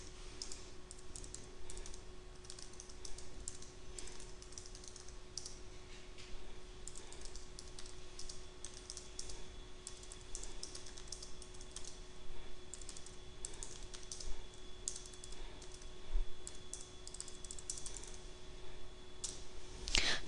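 Quiet computer-keyboard typing runs steadily for about twenty seconds as a comment is entered, rapid light key clicks over a faint electrical hum, with no voices.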